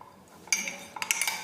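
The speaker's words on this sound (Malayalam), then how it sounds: "നന്നായിട്ട് മിക്സ് ചെയ്യാം." Passion fruit pulp is stirred in a bowl with a spoon: a quick run of close metallic clinks and scrapes against the bowl, short and light, with no talking.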